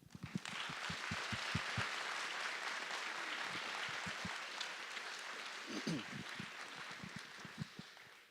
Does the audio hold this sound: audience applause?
yes